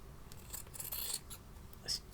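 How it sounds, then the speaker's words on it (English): Scissors snip through the excess fabric seam allowance of a boho bunting pennant, with a few quiet, crisp cuts spread across the moment in a calm sewing setting. "trim the excess seam allowance here"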